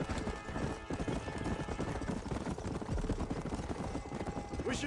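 A horse gallops in the video game Red Dead Redemption, with rapid, loud hoofbeats pounding continuously and a whinny near the end.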